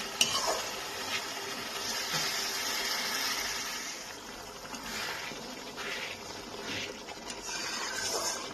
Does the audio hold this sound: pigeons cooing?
no